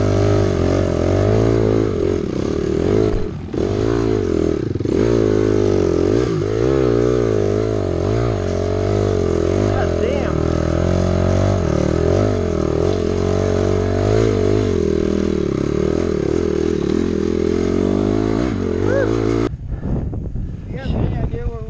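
A dirt bike roars steadily along a mountain trail, the engine loud and close with continuous revving and wind buffeting, cutting out near the end.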